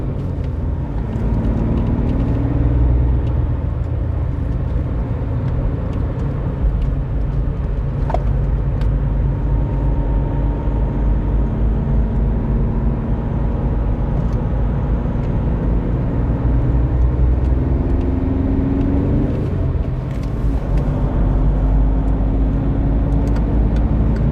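A Volkswagen Polo 1.2 TDI BlueMotion cruises on the German Autobahn at night, its diesel engine a steady, loud drone with tones that slowly rise and fall over constant road and tire rumble, and no talking.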